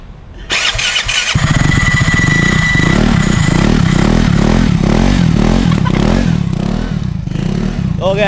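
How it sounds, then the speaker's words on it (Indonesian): A Vespa 75th Anniversary scooter with a two-stroke engine starts up close by, catching after a brief crank and settling into a loud, rapid, rattly exhaust idle with uneven revs throughout. "kalian di rumah dengerin suara knalpot dari motor satu ini"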